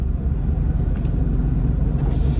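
A 2024 Ford Mustang convertible's engine rumbles at a steady idle right after a line-lock burnout, a continuous low, deep throb with no talk over it.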